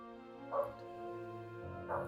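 A dog in the indie video game Lord Winklebottom Investigates gives two short, faint barks about a second apart over a quiet humming game soundtrack.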